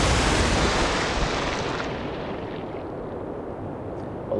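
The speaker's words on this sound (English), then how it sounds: "We can only fire with these front guns." Warship guns firing in the naval game Atlantic Fleet, a loud broad boom decaying into a long rumbling roar that slowly fades, with the hint of another report at the end.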